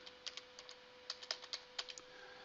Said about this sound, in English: Type in appetizers